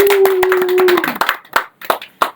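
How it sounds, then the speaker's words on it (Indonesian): A small podcast team claps in a quick burst that thins out into a few scattered, separate claps near the microphone, with a brief steady tone fading under the first second. "Boleh tepuk tangannya"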